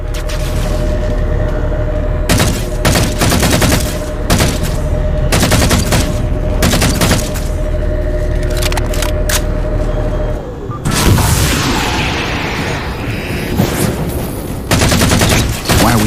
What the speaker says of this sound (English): Taking fire, starboard side!